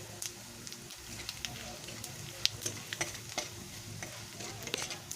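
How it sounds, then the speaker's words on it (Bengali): Whole cumin seeds and spices, including cloves, sizzle and crackle in hot oil in a pan, with a soft continuous fry broken by sharp pops and spoon stirring, close and quiet. "ওটাকে আমি ভালো করে ভেজে নিচ্ছি"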